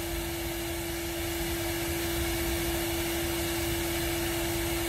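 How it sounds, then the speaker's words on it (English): Steady, loud whooshing roar of a vacuum cleaner sucking bees out of a tree, a constant motor drone with a sharp whine held throughout, and no voices. "I finally got him to vacuum for me."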